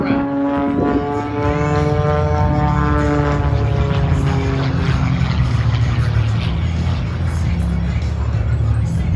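An aerobatic airplane performing the tsunami maneuver within about 500 feet of the ground drones loudly and continuously, its engine pitch sweeping and shifting as it climbs and turns overhead.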